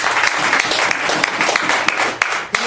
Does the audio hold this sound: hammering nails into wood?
no